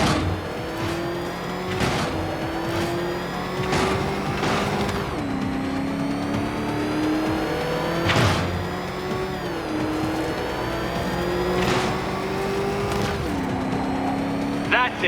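The Batmobile in Batman: Arkham Knight, a heavy armoured black car-tank, revs loudly and continuously with rising and falling engine pitch, punctuated by sharp crashes and impacts.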